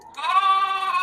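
A single sheep gives one loud, close bleat lasting about a second, wavering and nasal, with nothing else around it.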